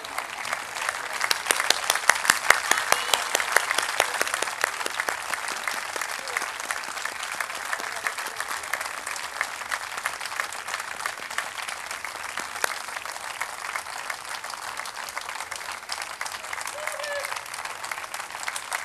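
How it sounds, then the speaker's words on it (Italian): A concert audience in Civitanova Marche gives big, sustained applause, dense clapping that swells early then holds steady for a long stretch, with scattered crowd voices under it. "applausone"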